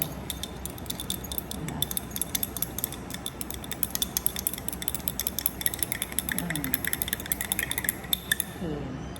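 A glass rod stirs water in a 50 ml beaker to dissolve a salt in a lab, giving rapid, bright clinking taps against the glass, steady and close throughout over a low background hum.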